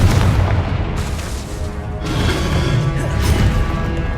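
Spell explosions and blasts from Hogwarts Legacy, fire and blasting spells in gameplay, producing continuous loud booming, crackling bursts with dense rumble throughout, a couple of heavier impacts layered over a busy combat soundscape.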